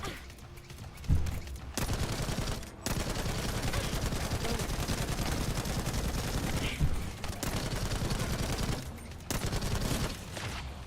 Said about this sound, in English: I got a machine gun now. Suppressing fire!